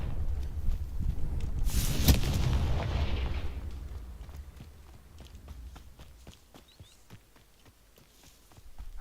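A Confringo spell explodes in Hogwarts Legacy as one loud, broad blast that rumbles and fades over a couple of seconds, followed by soft clicking steps and light impacts.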